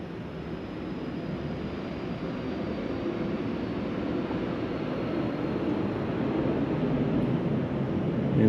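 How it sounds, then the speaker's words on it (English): Jet aircraft taking off outside at Ellington Airport in Houston, heard as a steady broadband roar that swells gradually louder over the whole stretch, muffled as if from indoors, with no talking. "As you can hear, a jet just took off outside."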